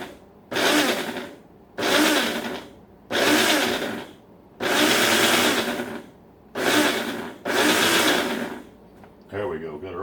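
Eggs are whisked hard in a bowl for an omelette, heard as six bursts of rapid, loud, close beating separated by short pauses.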